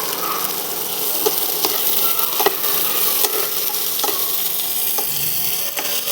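Chopped tomatoes and green chillies sizzling in a pan for egg curry, a steady hiss broken by sharp spatula scrapes and taps at irregular intervals, close up with no speech.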